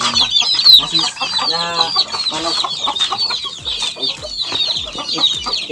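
Adult chickens at a farm cluck steadily and close by, with dense overlapping calls and occasional sharper squawks throughout, and no voices.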